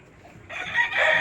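Chickens cluck and a rooster crows in a countryside yard, a short loud burst of raspy calls close by, with no talk.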